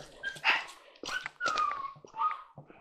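A dog barks several times in short bursts, fairly close, with whining yips between the barks.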